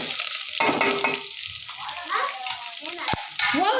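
Onions and green chillies frying in a pan for a sweet corn tempering, a close, continuous sizzle with clattering stirs, while faint voices murmur underneath.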